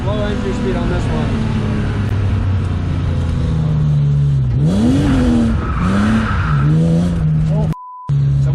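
A BMW E36 drift car enters a corner, its engine revving and bouncing through rising and falling pitch with tire squeal, loud and close, as a voice talks over it.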